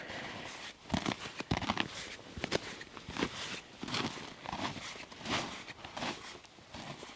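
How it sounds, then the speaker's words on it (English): Ice crystals crunching underfoot in Antarctica, a run of close, distinct footsteps with crinkly, tearing crunches, each step sounding slightly different, heard alone. "The crunch of ice crystals."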